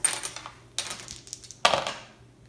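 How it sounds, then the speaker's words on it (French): Small plastic candy pieces from the board game La fabrique à sucre tumble out of a cone in two or three clattering pours, close and bright, each rattling briefly before settling. "On peut ranger tous nos bonbons de notre cône."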